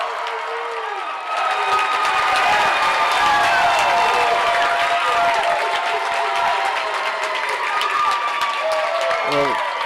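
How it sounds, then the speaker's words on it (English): Crowd at a high school basketball district tournament final roaring and applauding after a buzzer-beating layup before halftime, a dense sustained wash of cheering and clapping with scattered shouts and whistles, loud and close throughout, rising sharply after a quieter first second. "And that will ignite the crowd here."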